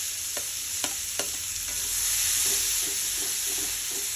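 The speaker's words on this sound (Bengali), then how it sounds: "এখানে আমার পেঁয়াজ ভাজা হয়ে গেছে" Chopped onions frying in oil with black cumin seeds, a steady soft sizzle with a few sharp crackles and stirring clinks near the start, no voices.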